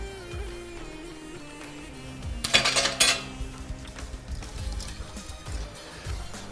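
Yogurt being whisked while broth is ladled in for garlic soup: metal whisk and ladle clink against a pot, with a bright clattering burst midway and lighter scraping taps around it, close and alone.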